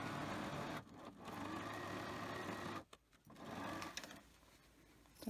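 A sewing machine stitches strips of patchwork fabric for a pot holder, a steady rapid mechanical whir that pauses briefly twice before running again, fairly faint throughout.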